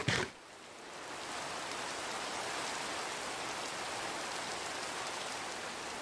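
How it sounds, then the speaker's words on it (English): Rain falls in the video game Minecraft in near-thunderstorm weather, a soft, even hiss of steady rainfall that runs on without a break after a brief sharper sound at the very start. "I mean, it's raining. It's almost a thunderstorm."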